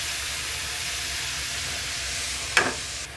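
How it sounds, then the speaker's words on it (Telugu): Chopped onions and tomatoes fry in a pan for a dhaba-style paneer butter masala, giving a steady, close sizzling hiss throughout, with a sharp burst of crackle near the end before it settles again. "ఇప్పుడు సన్నగా కట్ చేసుకున్న టమాటో, ఒక 3 టమాటాలు ఇందులో వేస్తాం."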